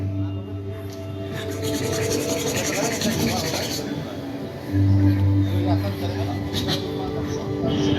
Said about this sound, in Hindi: दोनों हाथों को आपस में रगड़ेंगे।